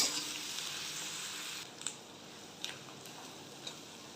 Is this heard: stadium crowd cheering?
no